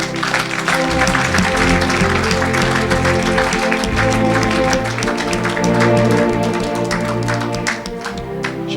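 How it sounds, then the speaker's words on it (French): A congregation at a Thursday evangelical church service applauds and cheers, a steady wash of clapping and voices running throughout beneath loud, sustained worship music. "acclamez pour Jésus."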